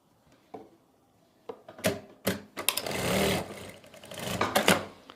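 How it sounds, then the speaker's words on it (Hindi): A sewing machine stitches a narrow salwar seam in short, uneven bursts that build into a longer, louder run of stitching near the end. "पहले हम एक तरफ आसन पे सिलाई लगाएंगे"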